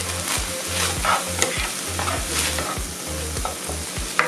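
Mushrooms hit a hot pan of cooking chickpea bolognese with carrots, a loud close sizzle and frying hiss punctuated by repeated scraping stirs of a spoon.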